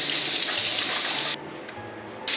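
Green peppers are rinsed under a running kitchen tap. The water gushes steadily and close, cuts off for about a second, then starts again.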